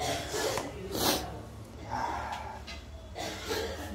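Several short, harsh coughs and sharp breaths burst out in quick succession, close by, separated by brief pauses, caused by pungent fumes from cooking a tomato base.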